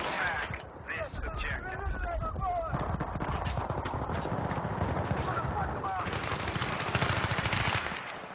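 Rapid gunfire crackles in Battlefield 3 during an indoor fight, bursts of shots mixed with loud game effects, while players talk over the action on voice chat.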